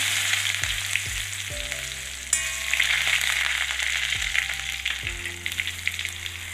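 Curry leaves and dried chillies fry in hot coconut oil with mustard seeds for a sweet banana pachadi, giving a steady close sizzle and crackle with a few sharp pops and brief clatters of stirring throughout.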